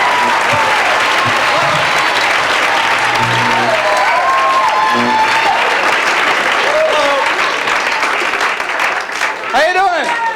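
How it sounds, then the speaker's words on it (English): A college audience at a 1984 stand-up comedy show at Tufts applauds a comedian, a loud, dense, continuous roar of clapping lasting throughout, with whistles and cheers rising near the end. "Please, a nice round of applause for the comedy of Mr."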